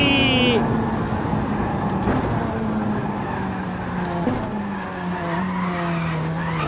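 An R35 GTR braking hard from 400 km/h in a racing simulator, with a long tyre squeal sliding down in pitch under a droning engine, and someone talking excitedly over it.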